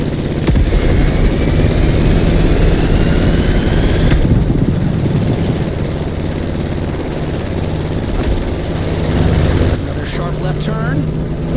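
Plane engine in the racing video game The Crew Motorfest, a loud continuous propeller drone with a deep steady hum, briefly shifting tone during a sharp turn.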